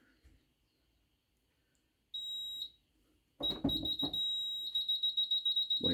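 A JSB FX2202 conventional fire alarm panel's fault buzzer gives a brief tone, then after handling noises sounds again as a sustained high electronic beep that turns into rapid pulsing, loud and close.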